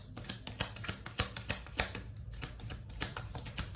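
Tarot cards shuffled and drawn by hand, a series of crisp close snaps and flicks at irregular intervals, with soft rustling between them and no talk.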